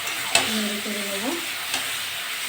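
Bottle gourd and shrimp stirred in a sizzling frying pan, a sharp utensil scrape and clack up front, then a squeaky scraping glide and another light knock over a constant close frying hiss, no talk.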